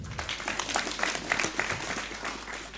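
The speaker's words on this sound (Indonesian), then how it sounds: "Luar biasa, tepuk tangan." Audience at an Islamic religious study gathering breaks into loud, dense applause, sustained and steady throughout, from many hands close by.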